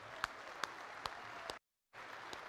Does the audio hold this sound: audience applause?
yes